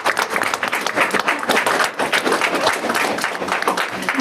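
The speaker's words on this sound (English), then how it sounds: "Let's give them a round of applause." Audience applause at a school board meeting, steady dense clapping from a room full of people sustained throughout without a break.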